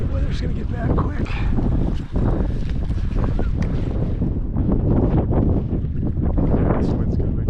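Strong wind buffets the microphone outdoors at an urban fishing spot in Denver as bad weather moves in, a loud, continuous rumbling roar that runs for the whole stretch with only a brief dip partway through.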